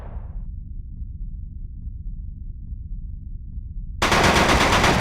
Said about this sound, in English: Let's try out a submachine gun.